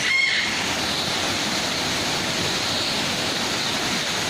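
Waterfall at Jurong Bird Park in Singapore, a steady, loud broadband rush of falling water that holds constant throughout, close by with no voices.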